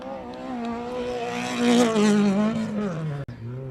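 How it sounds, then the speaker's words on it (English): Rallycross race car engine screaming at high revs during a race at Machakos People's Park, a loud, sustained, wavering whine that climbs and dips as the car pulls away, briefly cutting out near the end before resuming. "Listen to that engine go."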